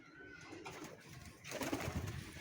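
A black-green pet pigeon, kept in a home loft, coos softly in the background, faint low murmuring calls that swell slightly toward the end, with no voices over them.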